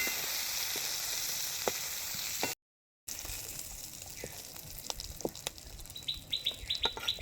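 Prawns fry in hot oil for a prawn dal, giving a steady close sizzle that drops out briefly, then resumes more lightly while birds chirp repeatedly in the background.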